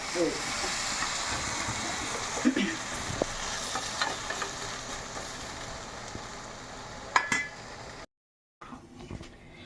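Beef frying in ghee over a low flame gives a steady, close hiss and sizzle with a few metallic clinks and stirring knocks. The sound cuts out briefly near the end, then returns.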